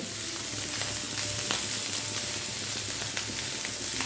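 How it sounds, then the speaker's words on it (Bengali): A cooking mixture with chopped coriander leaves sizzles steadily in a pan, giving a close, even frying hiss dotted with small crackles and light stirring, with no voices. "এবারে ধনে পাতা এই সব কিছুর সঙ্গে মিশিয়ে দিয়ে আরও এক মিনিট মতো রান্না করে নিতে হবে"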